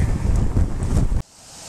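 A southeast wind blows hard across the microphone on a cold, wet, stormy morning, a loud rough rush that cuts off abruptly partway through, leaving quiet room tone.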